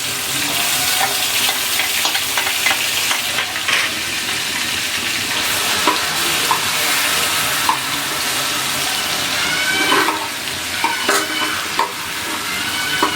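Steady sizzling of ginger garlic paste frying in a hot pan, with scattered stirring scrapes and clinks throughout, close and fairly loud.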